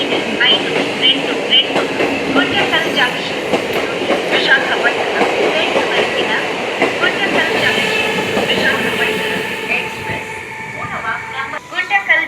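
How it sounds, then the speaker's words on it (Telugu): Tirumala Express train rolling past at a crossing, loud rhythmic clickety-clack of wheels and carriages right up close, with a few squeals near the end and people talking over it. "తిరుమల ఎక్స్ప్రెస్ని క్రాసింగ్ పెట్టాడండి"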